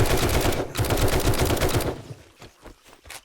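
Game gunfire in 7 Days to Die, a sustained rapid volley of loud shots with a brief gap, then trailing off into softer scattered reports and clatter.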